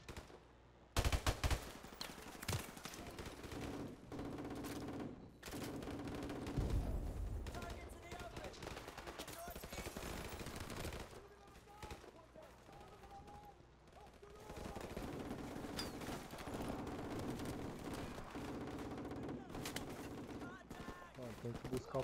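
Sustained automatic gunfire and bursts of shooting fill a Call of Duty: Modern Warfare Remastered firefight, with near-continuous rattling shots, a few heavier impacts, and a player's voice talking over the action.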